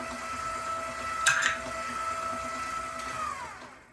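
An electric mixer beats eggs into cream cheese pound cake batter in a bowl, making a steady mechanical hum with a brief clatter near the start. It is close and moderately loud, fading out at the end, with no talking.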